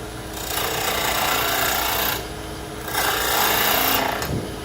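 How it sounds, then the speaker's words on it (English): A 3/8 spindle gouge cuts a wooden ring on a lathe. Three rasping, scraping bursts come close together, each lasting a second or two, with the hiss of the lathe continuing underneath. "Just using the 3/8 spindle gouge."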